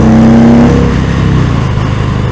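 A 2019 Indian Springfield Dark Horse motorcycle engine revs hard with a rising whine, then settles into a loud, close rumble of road riding.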